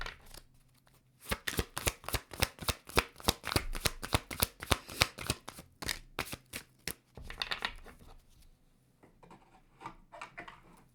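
A tarot deck is shuffled close by in a quick run of sharp, rhythmic riffling slaps, roughly twenty strokes in a row, then softer shuffling and card handling trailing off into quiet.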